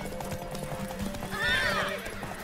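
A horse in The Witcher 3: Wild Hunt clip-clops with steady hoofbeats, then lets out a loud, close neigh midway through, with no talk over it.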